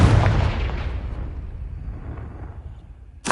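A Confringo fire spell blast in Hogwarts Legacy lands as one loud, close boom that decays into a rumbling tail over about three seconds. A fresh sharp onset cuts in at the very end.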